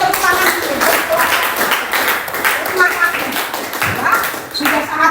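Students in a high school classroom clap for a group presentation, brisk uneven handclaps close by, mixed with chatter and voices.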